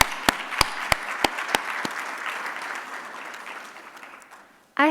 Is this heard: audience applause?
yes